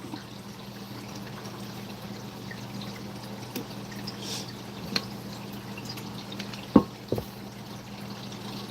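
Water trickles steadily from a homemade two-pump setup in a flower pot, a low continuous flow with a few small clicks and drips near the end.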